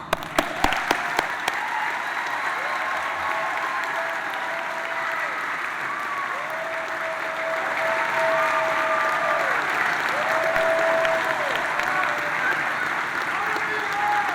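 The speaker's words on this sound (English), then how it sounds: "Give him a big round of applause" Sustained applause from a large audience at the Edgewood High School 2025 commencement ceremony, opening with a few sharp claps and then swelling into a dense, even roar. Faint tones sound above it.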